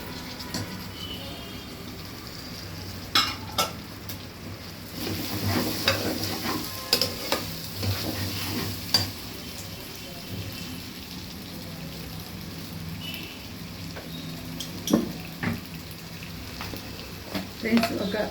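Peas sizzle and fry in a pan while being stirred, a constant soft crackle broken by scraping and clinking knocks of a spoon, with a voice talking quietly underneath.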